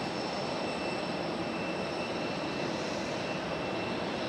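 A JetBlue airliner in Mint livery at Raleigh-Durham airport gives a steady, faint, continuous engine hum and whine, alone without voices.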